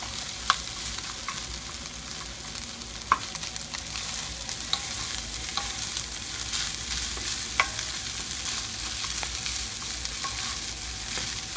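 Rice stir-fried with garlic in a pan, a continuous close sizzle broken by sharp scraping clicks from the spatula breaking up clumps.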